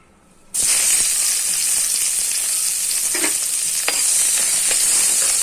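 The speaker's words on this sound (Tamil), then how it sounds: "வெங்காயத்தையும் பூண்டையும் வதக்கி எடுத்துக்கலாம்." Onion and garlic hit hot oil in a pan with a sudden loud sizzle that settles into a steady close frying hiss, broken by a few stirring clicks and scrapes, with no talk.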